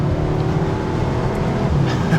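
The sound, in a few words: Audi S3 Sportback accelerating with quick gear shifts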